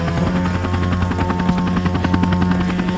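Helicopter rotor chopping loudly and steadily in a fast even rhythm, with a droning engine hum underneath and no voices.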